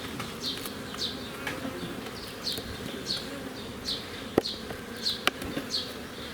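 Honeybees hum steadily in an opened hive during an inspection, a dense, close drone with individual bees whizzing past and a few faint taps.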